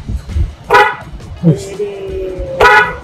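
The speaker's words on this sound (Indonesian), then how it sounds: "Klaksonnya coba dulu nih Kak." A Suzuki Baleno's newly fitted car horn gives two short, loud honks about two seconds apart, with people talking nearby before and between the blasts.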